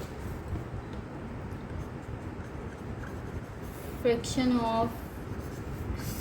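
Pen scratching steadily on paper while working a math exercise, a soft continuous scrape against a faint background hum, with a brief voice-like tone near the end.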